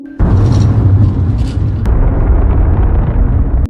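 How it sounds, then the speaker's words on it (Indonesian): A sudden massive boom from a giant explosion shaking a city erupts into a loud, sustained roaring rumble with deep low-end power, lingering without fading. "Michael terbangun oleh ledakan raksasa yang mengguncang kota"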